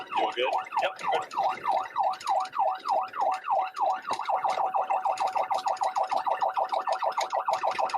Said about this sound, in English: the siren sound is a little weird